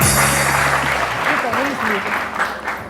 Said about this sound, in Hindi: सायमा जी, सायमा के लिए बहुत सारी तालियां, सायमा के लिए।